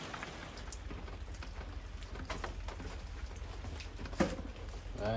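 Heavy rain falls outside as a soft, steady patter with scattered drips and a faint high hum, heard from indoors at a distance, with one sharper knock near the end.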